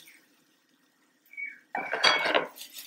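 Metal utensils scrape and clatter against a pan in a burst of stirring while roasting taro with flour, after a mostly quiet start with a brief faint tone.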